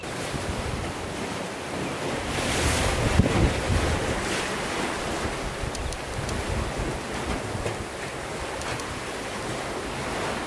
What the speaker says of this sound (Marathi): या कपारीतून उडणारा जलखांब, त्याच्या धडक्याचा आवाज, पाण्याची प्रचंड खळबळ